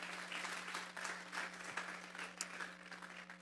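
A church congregation claps together in a steady, sustained round of applause heard from a distance over a constant low electrical hum.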